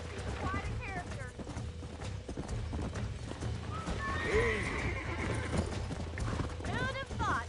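In the video game Red Dead Redemption, a horse neighs and whinnies several times over steady clip-clopping hooves, with voices talking at times and a low background rumble.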